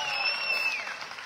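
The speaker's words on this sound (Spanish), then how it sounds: "Vamos a despedirla con un fuerte aplauso." Applause and crowd noise at a marimba orchestra performance in Guatemala, a short dense wash of clapping with a high whistle gliding over it.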